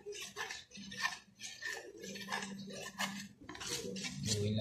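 Homemade degreaser being stirred in a container, baking soda and a lemon cleaning product being dissolved, gives a steady run of clinking, scraping strokes of a utensil against the vessel, close and fairly busy throughout.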